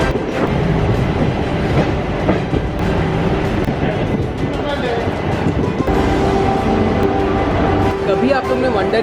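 The Mangala Lakshadweep Express, a daily superfast train between Delhi and the south, running on rails with steady rumbling and rhythmic clickety-clack of wheels over joints, loud and continuous from on board.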